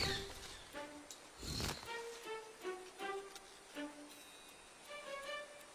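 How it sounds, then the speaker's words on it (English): White-bearded manakin wing-snapping display in forest: a series of sharp, loud snaps scattered irregularly, one heavy burst near the start, over a backdrop of chirping birds and insect calls. "The loud snapping noises are made as they strike their wings together behind their backs."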